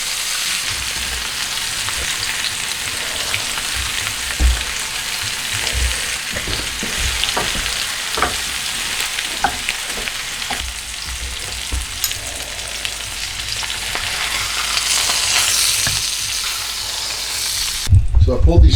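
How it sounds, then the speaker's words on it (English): Butter melting and sizzling in a hot pan beside steaks and garlic vegetables, a steady broadband crackle with scattered pops running throughout, close and fairly loud, ending in a brief louder burst. "I throw some butter on there to melt."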